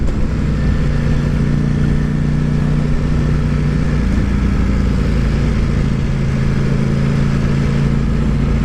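A Ducati Panigale V4 S motorcycle on a road ride, its engine droning loud and steady with wind rush over the whole stretch and small shifts in pitch, and no voices.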